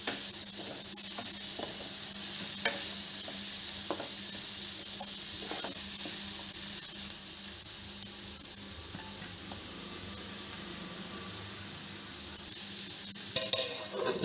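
Chopped onions fry with salt under a lid in a pan, giving a steady broadband sizzle throughout with a few faint clinks and taps, continuous and fairly close, with no voices.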